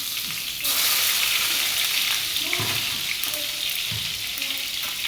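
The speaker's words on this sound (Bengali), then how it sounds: "তো চলো বেগুন ভাজাটা আগে বসিয়ে দিচ্ছি।" Sliced eggplant sizzles steadily in hot oil in a frying pan for begun bhaja, a continuous close crackling hiss with a few soft stirring clinks and no talking.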